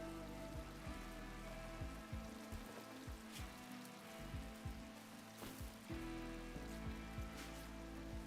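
Steady rain falls outdoors in a video game as a soft, constant patter of drops, with low tonal game music or hum running beneath it and no talking.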